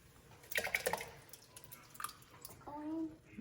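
Crushed tomatoes poured into a pot for homemade spaghetti sauce, a quiet thick glugging and dripping near at hand, with speech faintly present.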